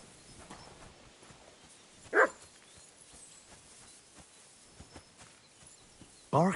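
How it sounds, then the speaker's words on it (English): A dog barks twice in the video game Kingdom Come: Deliverance II, single sharp yelps a few seconds apart, the second one closer and louder, over a quiet outdoor background with soft movement sounds. "barking."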